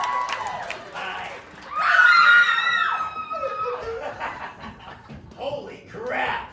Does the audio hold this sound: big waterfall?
no